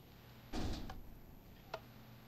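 A wooden door in Minecraft swings shut with a soft thud, followed a moment later by a faint second click, quiet and close.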